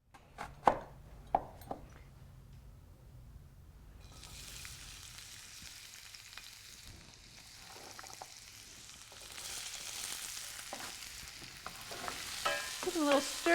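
Onions fry in a pan for nutty lentil veggie burgers. A few sharp utensil knocks open, then a broad sizzle rises and keeps going under intermittent stirring scrapes, growing louder toward the end.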